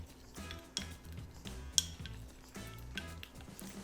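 Paprika, cinnamon and other spices being mixed together in a bowl for stuffed eggplant, a quiet run of small clinks and soft taps from a utensil against the bowl, close up and without talk.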